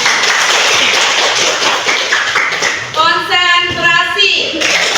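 Hands clap together in a classroom, a dense spell of clapping for about three seconds that gives way to voices, fairly close and moderately loud.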